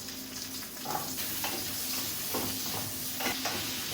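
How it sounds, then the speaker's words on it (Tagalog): Carrots sizzle as they pan-fry in a hot pan, a steady close hiss with occasional stirring scrapes throughout. "Kapag mainit na yung ating kawali, unahin natin yung carrots."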